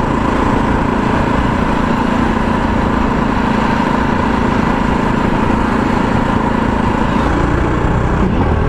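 A Jawa 42 Bobber motorcycle engine drones steadily and loudly while being ridden, a continuous rough rumble with wind noise and a slight rise in pitch near the end.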